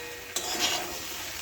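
A paste of cauliflower, potato and poppy seed fries in a pan and is stirred, giving a brief close scrape over a low, steady sizzle.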